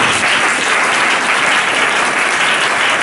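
A church congregation claps loudly and steadily throughout, a dense continuous wash of many hands applauding together close by, with no talk over it.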